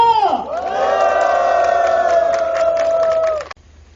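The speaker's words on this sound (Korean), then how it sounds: "우리 의원한테 함성으로 시작하도록 하겠습니다" Crowd at an outdoor rally protesting the Fukushima nuclear wastewater release in Wanju, South Korea, lets out a loud, sustained collective cheer and shout lasting several seconds before cutting off abruptly.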